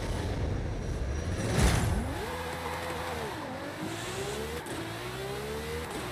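A car in Forza Horizon 5 revs hard with brakes locked, then the throttle reopens, its game engine tone climbing and falling in repeated rising sweeps, loud and close.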